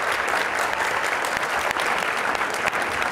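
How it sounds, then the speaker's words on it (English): Dense, even audience applause at a live talk event, loud and continuous throughout with no pauses. "if we just get a round of applause, please."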